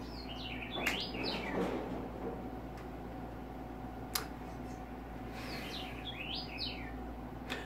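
Small bird chirping outside a window, bright high tweets in bursts near the start and again around six seconds, with a steady low indoor hum underneath and no talk.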